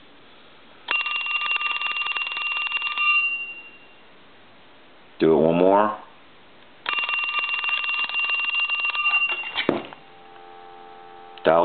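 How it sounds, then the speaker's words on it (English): A Western Electric Donut rotary telephone bell rings in two long metallic trills separated by a pause, with a short spoken phrase in between and clattering handling noises. "We'll go ahead and ring it."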